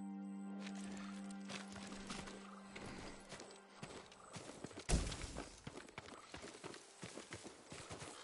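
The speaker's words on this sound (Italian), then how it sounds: "Un cavallo da tiro, non da guerra." A draft horse shifts in a stable in the samurai game Ghost of Tsushima, its hooves clip-clopping in uneven, fairly close steps with a sharp thud midway, over a low steady hum.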